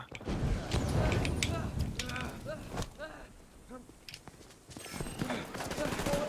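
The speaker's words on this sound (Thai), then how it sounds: "ำไมจู่ๆมันยิงกันละลูก" Bursts of gunfire from The Division 2 video game crackle through the clip, dense and sustained, easing midway and then building again, with voices talking over the shooting.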